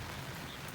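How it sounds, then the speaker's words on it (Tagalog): Steady rain falls outdoors onto a canopy tarp, a soft, even hiss with faint pattering drops throughout, quiet and continuous with no voices. "umuulan na rito, mabuti may tulda kami"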